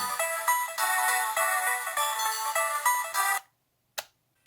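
Bright, beepy chiptune video game music plays steadily from a Game Boy Advance, then cuts off abruptly. A short blip of sound follows after a moment of silence.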